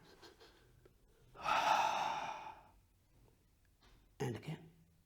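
A Pilates exercise class with a clear audible breath lasting about a second, followed a couple of seconds later by a short sharper breath or gasp, heard close up in a quiet room.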